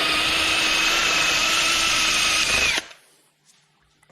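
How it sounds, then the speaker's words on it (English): A small wire brush spinning on a power drill scours rust from a Vauxhall Astra H front brake hub, a loud steady whirring grind that cuts off abruptly near the end, leaving quiet with faint clicks. "So I like to use a little wire brush on the end of the drill"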